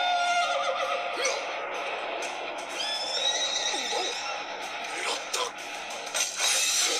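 Horse whinnies in an Attack on Titan anime episode, a high, wavering neigh rising over a busy, dense soundtrack mix with clinking and movement, sustained through the scene.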